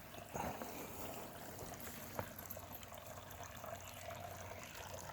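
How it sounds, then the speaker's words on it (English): A small bird bath fountain trickles water in a garden, a faint continuous soft babble close by with a small splash now and then, no talk. "Little bird bath fountain's doing good."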